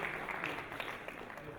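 Audience applause at a panel session, a steady wash of clapping with some voices mixed in, moderately faint and continuous throughout.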